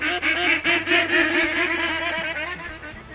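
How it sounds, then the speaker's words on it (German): Repeated honking duck calls in a steady rhythm, loud and close, over a low droning soundtrack in the video game Way of the Hunter. "Die Enten, ey."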